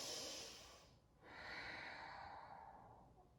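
A slow yoga breath, a long airy exhale followed after a short pause by a deep steady inhale, close and soft with no talk.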